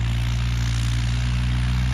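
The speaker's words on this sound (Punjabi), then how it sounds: "ਲਓ ਜੀ ਭਾਜੀ ਲੱਗੇ ਨੇ ਟਰੈਕਟਰ ਤੋਰਨ" A tractor engine idles and pulls away with a steady, heavy low drone and a dense rumble, loud and close, with no voices over it.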